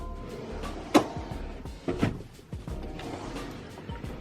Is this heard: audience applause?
no